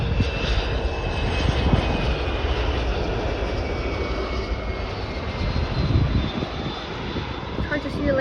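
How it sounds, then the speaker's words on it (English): An Embraer ERJ-145LR regional jet operated by Contour Aviation arrives at Chicago O'Hare on a morning, its engines giving a steady, loud, broadband roar throughout. "ERJ-145LR Contour Aviation arriving in from Owensboro"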